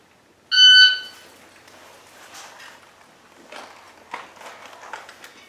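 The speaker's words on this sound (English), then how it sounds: "right as it beeps, you should be pulling that trigger within a second or so" A shot timer gives one sharp, loud electronic beep during a dry fire drill of drawing a handgun from concealment, followed by quiet rustling and handling noises.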